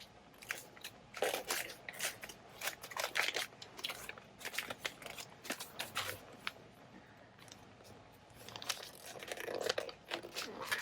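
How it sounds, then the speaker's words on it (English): A wrapped book being unwrapped by hand, with loud crinkling and tearing of paper wrapping in bursts through the whole stretch, close up and with no talk. "I'm going to go ahead and unwrap it, or at least attempt to unwrap it without seeing too much."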